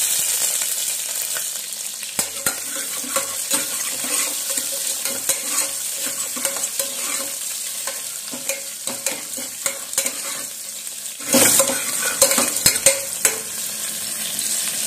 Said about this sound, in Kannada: ಇವಾಗ ಚಟಪಟ ಆದಮೇಲೆ ಈರುಳ್ಳಿನ ಫ್ರೈ ಮಾಡ್ಲಿಕ್ಕೆ ಹಾಕ್ತೀನಿ.